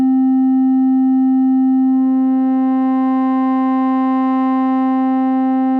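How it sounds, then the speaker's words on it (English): An Elektron Digitone synthesizer holds one sustained tone, loud and steady, starting as a near-pure sine and gaining faint upper overtones partway through, with no voices. "So that's the normal digitone sine."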